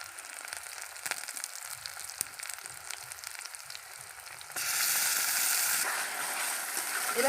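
Soft, steady sizzling of ground spice paste frying in a pan for a Bengali-style country duck egg curry, growing louder and hissier partway through, with no talk.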